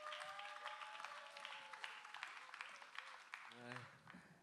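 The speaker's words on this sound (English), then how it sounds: "Give them a round of applause" Audience applause at a literary comedy event in South Africa, a steady patter of clapping from a crowd with people talking over it, fairly faint and distant.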